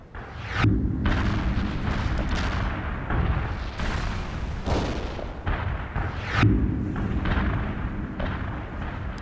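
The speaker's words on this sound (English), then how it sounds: "That's some explosion." Massive explosions and artillery fire from the real-time strategy video game World in Conflict, a continuous rolling barrage of heavy booms and blasts with dense low rumble throughout, several sharper detonations standing out, no talk.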